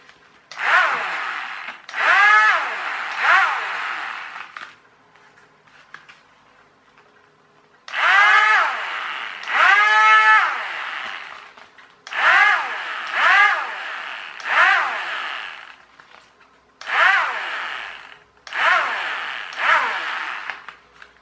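Motor of an RC Sky Hunter 230 model plane with a suspected loose wire: a whining electric drone that repeatedly spins up and cuts out in bursts of a second or two, close and loud, no talk.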